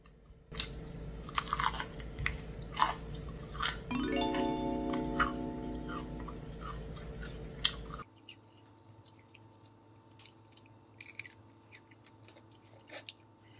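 Crunchy chewing bites of crispy fried chicken come close and loud in bursts, mixed with a brief rising electronic tone, then quieter crunching continues alone afterward.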